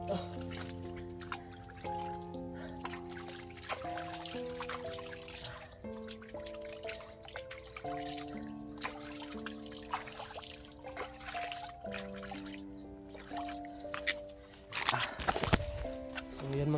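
Water trickles in a dirty drainage canal, a faint continuous dribble and patter beneath prominent melodic music, with a voice speaking briefly.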